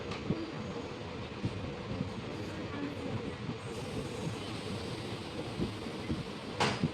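A passenger train on an Upper Assam line pulling into a small hill station near a river, a steady rumble of wheels and carriages heard from inside, with faint clicks and a brief sharp squeal near the end.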